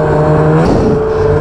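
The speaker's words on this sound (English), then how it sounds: "Back on the snowmobile trail." A snowmobile engine droning steadily while riding along a snowmobile trail, loud and close with a constant pitch throughout the short stretch.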